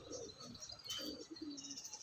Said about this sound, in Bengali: এই একটা নর পায়রা সেল আছে